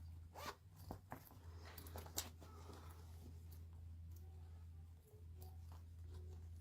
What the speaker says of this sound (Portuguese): Vai abrir aqui o zíper